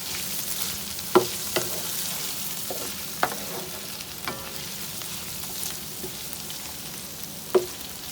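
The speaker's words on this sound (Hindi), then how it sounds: "कलेजी को 1 से 2 मिनट तक अच्छी तरह भून लेते हैं।" Beef liver fries in ghee in a pan with a steady soft sizzle, with a few sharp clinks and scrapes of stirring.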